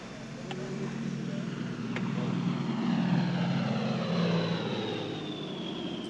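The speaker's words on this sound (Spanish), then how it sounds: "Aviones meteorológicos americanos recorren el Caribe." Propeller aircraft hum over the Caribbean, a broad steady engine drone with a low throbbing tone that swells and eases as the plane passes, with faint narration-like voice mixed underneath.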